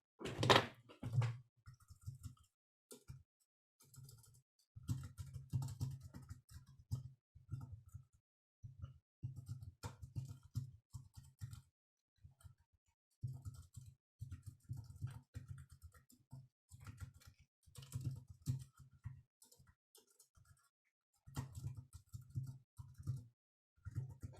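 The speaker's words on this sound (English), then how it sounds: "Maybe I'll type it out because it'll be faster." Typing on a computer keyboard, a quick run of soft clicking keystrokes in bursts with short pauses, close and fairly quiet, with no one talking.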